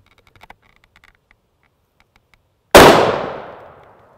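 A single loud rifle report from a Remington Accelerator 30-06 sabot round fired at an armor plate, a sharp blast with a long decaying tail, after a few faint clicks and handling noises.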